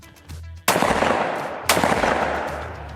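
Two loud shotgun blasts about a second apart from a Winchester 101 12-gauge over-under firing Federal Top Gun 1 1/8 ounce target loads outdoors, each sharp report followed by a long decaying echo.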